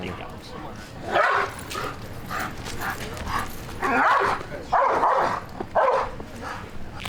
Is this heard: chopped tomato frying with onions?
no